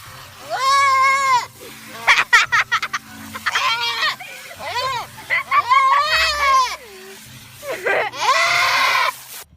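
Sheep on a farm bleat repeatedly and loudly at close range, several quavering calls with short gaps between them, mixed with a voice and other voices talking nearby.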